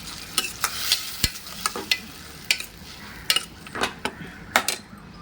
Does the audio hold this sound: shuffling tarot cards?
no